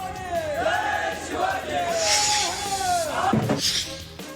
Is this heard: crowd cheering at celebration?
yes